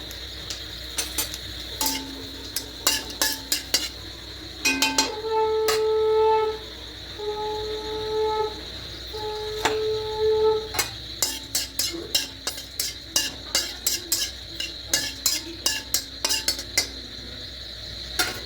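Panch phoron spices sizzling in hot oil in a kadai, a steady hiss broken by a few sustained tonal squeals midway, then a long run of quick metallic clinks and scrapes as a utensil stirs against the pan.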